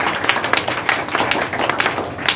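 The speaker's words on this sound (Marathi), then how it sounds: "जगदाय सरांच्या साठी सुद्धा आपण अगदी जोरदार टाळ्या वाजून त्यांना सुद्धा धन्यवाद देऊया" A school audience claps for a teacher at a uniform and supplies distribution event, a lively run of many hands with uneven peaks, fairly close and continuous without speech.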